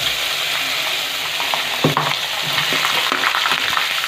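Ground coconut, ginger and garlic masala hits a hot pan beside curry leaves and fenugreek for a tuna curry, giving a steady loud sizzle with stirring scrapes and clinks.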